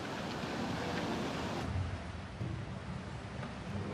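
Tsunami torrent of water rushing in during Japan's megaquake, a dense roaring wash of water and wind noise, steady and loud throughout with surging swells.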